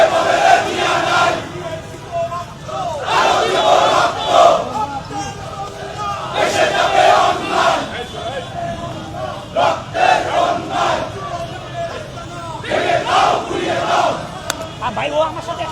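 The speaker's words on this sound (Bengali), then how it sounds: "আওয়ামী লীগের বিরুদ্ধে বিভিন্ন স্লোগান দেওয়া হচ্ছে" Large crowd at a street protest march against the Awami League chanting slogans in rhythmic, repeated waves, loud and continuous with voices overlapping.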